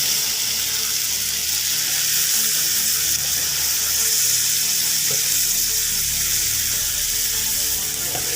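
Soy sauce sizzling as it hits a hot pan of chicken adobo, a steady, loud frying hiss throughout with faint scraping, no talking.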